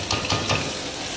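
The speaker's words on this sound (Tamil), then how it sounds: "வெங்காயத்தை போட்டு நல்லா வதக்குங்க." Onions sautéing in ghee in a pan, a steady sizzle broken by a few stirring scrapes close by.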